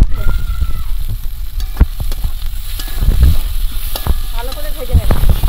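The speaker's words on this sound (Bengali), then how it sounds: "কাঁচা লঙ্কা পেঁয়াজ রসুন সব ভাজা হয়ে গেছে, ব্রাউন কালার হয়ে গেছে" Chopped onion, green chilli and garlic fry in oil for a liver curry, a bright steady sizzle close up, with spatula scrapes and stirring clatters breaking through at irregular moments.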